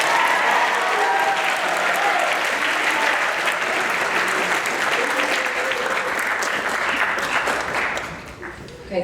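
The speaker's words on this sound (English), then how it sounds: "Keep clapping, keep clapping." A crowd claps continuously at a maritime archaeology presentation, broad and even for several seconds with some talk mixed in, then thins out near the close.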